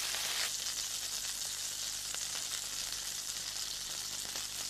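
Chopped onion frying in hot olive oil in a pan, a steady close hiss and crackle of sizzling that runs unbroken throughout, with no voices over it.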